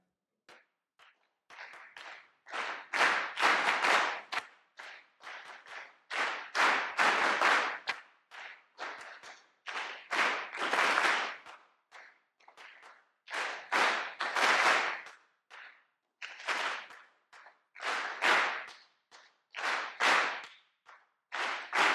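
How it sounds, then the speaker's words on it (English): An audience at a water-innovation awards event claps together in unison, loud rhythmic bursts of many hands repeating in waves with short pauses between them. "So clapping brings us together."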